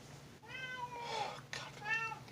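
A house cat meows twice, a drawn-out wavering call and then a shorter one, close and clear against a faint steady hum.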